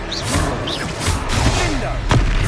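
A Confringo blast spell in the video game Hogwarts Legacy, heard as dull booms and thuds within a loud, dense mix of battle sound and game voices.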